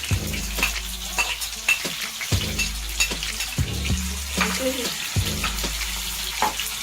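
Chopped onions fry in hot oil for Hyderabadi dum biryani with a bright, constant sizzle and repeated stirring scrapes, near and fairly loud, with no talking.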